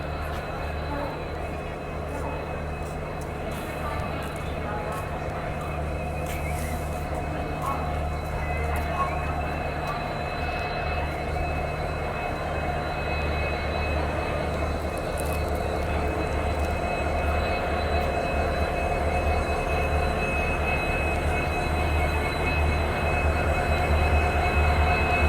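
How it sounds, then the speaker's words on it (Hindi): An Indian Railways passenger train hauled by a WDP 4 diesel locomotive rolls steadily toward Howrah, with a continuous low rumble, wheel noise on the rails and faint squeals heard from inside a coach. "इस ट्रेन का लोकोमोटिव कौन सा है जो हमको हावड़ा तक ले जाएगी।"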